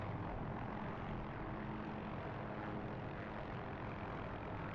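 Engine and rotor of an OH-6A helicopter in the DCS flight simulator spooling down at minimum throttle, a steady dense broadband whine and whoosh filling the whole clip with no pauses or talk.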